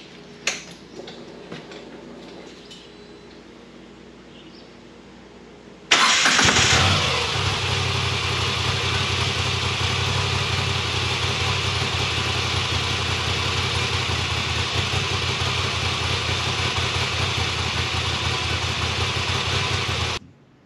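A Moto Guzzi V85TT motorcycle sits quiet with faint clicks, then its engine starts abruptly and settles into a loud, steady idle for about fifteen seconds before cutting off.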